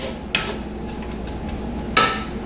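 Stirring in a pot on the stove, two distinct metallic scrapes or clinks of a utensil against the pan over a low background hum.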